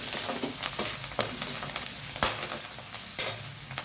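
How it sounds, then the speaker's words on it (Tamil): Onion with salt, curry leaves and coriander sautéing in a pan for vegetable rice, a loud, dense, continuous sizzle with repeated stirring scrapes and clicks close by, no one talking. "இந்த ஆனியன் வதங்கிறதுக்கு ஒரு 1/4 டேபிள் ஸ்பூன் அளவு உப்பு போட்டுக்கிறேங்க. நல்லா வதங்கணும்."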